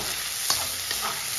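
Green chillies and onion sauté in a hot pan with a steady sizzle, broken by a few brief stirring scrapes, heard up close and without any talk.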